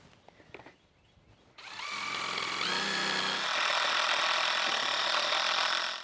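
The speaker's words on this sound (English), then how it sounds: "Get this drilled out and get the eye hooks put in" A power drill bores holes into a wooden board, starting after a brief quieter moment and then whining loudly and steadily at close range for several seconds, with no talking over it.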